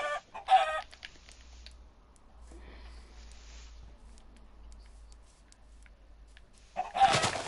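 Clucking from a chicken in the Minecraft video game, in two short bursts, one at the beginning and one at the end, with quiet low hum and faint game sounds in between.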